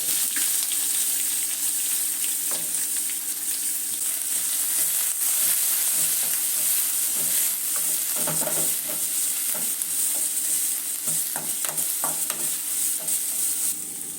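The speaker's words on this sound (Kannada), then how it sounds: "ಹಸಿಮೆಣಸಿನ್ಕಾಯಿ, ಹಾಗೆ ಕರ್ಬೇವಿನ ಸೊಪ್ಪು, ಕಟ್ ಮಾಡಿರುವಂಥ ಈರುಳ್ಳಿನ ಹಾಕ್ಕೊಳ್ತೀನಿ." Onions, green chillies and curry leaves fry in a pan, giving a steady, close sizzle throughout with occasional stirring scrapes and crackles.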